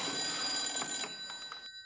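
A telephone bell rings in repeated bursts in a household, loud and close, before stopping abruptly near the end with no one talking.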